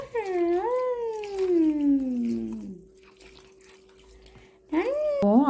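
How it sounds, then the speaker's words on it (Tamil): A small boy cries in a bath, wailing in long falling sobs with a pause in between, then starts crying again; the voice is loud and close. "அழுகுறான்."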